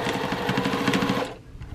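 A sewing machine backstitches quilt binding in a fast, even, rattling run of stitches close up, stopping abruptly after a second or so and leaving faint handling noise.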